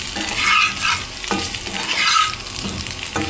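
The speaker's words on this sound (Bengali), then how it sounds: "একটু লবণ দিয়ে আমি আলুগুলো আগে ভাজতেছি" Potatoes fry with ginger-garlic paste, turmeric and salt in a pan, giving a continuous hissing sizzle broken by a few scraping stirs of a spatula, close and moderately loud with no voices.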